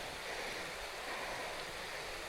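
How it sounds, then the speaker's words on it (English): Rushing water from a waterfall beside the Appalachian Trail makes a steady, broadband roar that is constant throughout, with no voices over it. "Look at that beautiful waterfall. I think I'm going to be walking alongside of it."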